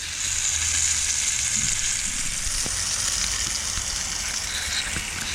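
Ulua fish frying in oil, a loud, continuous close sizzle and crackle that holds steady throughout with no talk.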